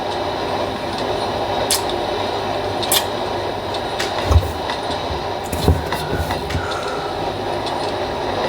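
A commuter train on the Tanjung Priok–Jatinegara line rolls toward Ancol station, its wheels rumbling and clacking over rail joints with scattered sharp clanks and squeals, loud and close from on board.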